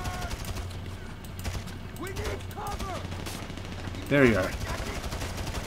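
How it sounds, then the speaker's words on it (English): Enemy gunfire in GTA Online during a solo Super Yacht mission, with repeated shots crackling through a busy game mix while someone talks over it. "I don't see where they're shooting at"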